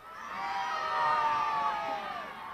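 At a live football 1v1 match, a crowd cheers for Davi Bastos, with excited young voices shouting and whooping together in a swelling roar that peaks midway and then eases slightly.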